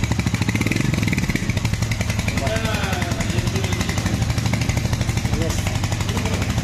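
A Royal Enfield motorcycle idling close by at a bike showroom, its engine thumping in a steady, loud, rapid rhythm throughout, with a person talking over it.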